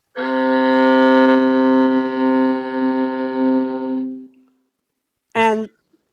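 A viola plays a single long, sustained bowed note that swells and wavers for about four seconds before fading, followed after a pause by a short burst of voice.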